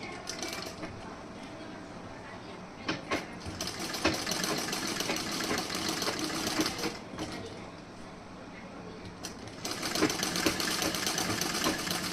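Sewing machine running steadily as it stitches a bridal blouse front, a dense rattling whir with brief pauses and restarts, with someone talking softly underneath.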